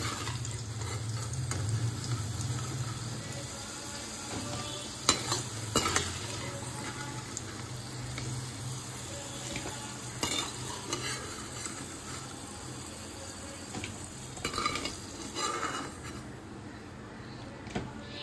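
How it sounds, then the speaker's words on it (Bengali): Pumpkin pieces frying in oil in a pan, steady soft sizzling with intermittent stirring scrapes and clunks throughout, no talking. "এবার এই তেলেই কুমড়োগুলি ভালো করে ভেজে নেব।"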